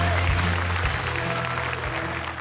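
Studio audience applauding a guest on a talk show, a brief dense burst of clapping at close range, steady and loud throughout, with a voice faintly over it.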